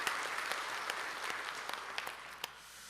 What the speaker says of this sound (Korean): 성령님께 영광의 박수를 올려드리겠습니다